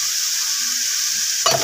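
Vegetables sautéing in a pan, giving a steady bright hiss with a short clatter of stirring near the end, close up and without talk.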